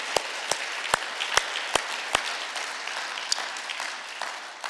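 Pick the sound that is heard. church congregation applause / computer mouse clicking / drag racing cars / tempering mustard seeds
church congregation applause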